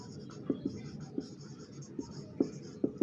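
Pen or chalk strokes while writing out a chemistry explanation of sigma and pi bonds. Short tapping and scratching marks come at an irregular rhythm, close and fairly quiet over low background noise.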